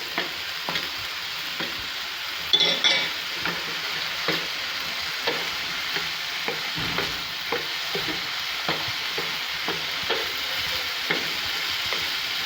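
Spiced chicken is stirred and mixed in a hot pan, rhythmic scraping strokes roughly every half second over a steady sizzle, near and without voices.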